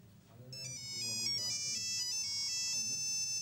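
An old Nokia phone ringtone plays its bright, beeping electronic melody clearly for a few seconds, with a faint low murmur of background noise beneath it.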